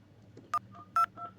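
Two short keypad beeps from an IP phone dialing sound clearly in a quiet setup, spaced under half a second apart over faint background hum.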